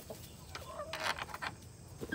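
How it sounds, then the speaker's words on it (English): A rooster clucks and calls faintly nearby in an outdoor coop on a Texas morning, giving a few short broken vocal bursts. "try to get out of here before my rooster comes and attacks me"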